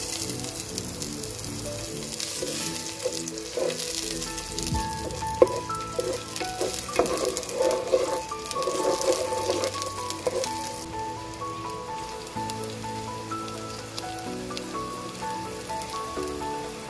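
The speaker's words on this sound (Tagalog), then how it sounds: "Unahin na po natin igisa ang ating sibuyas." Onions sauté in a pan as the base for chicken tinola, giving a continuous close sizzle with occasional stirring scrapes and a brief louder clatter midway, and no voices.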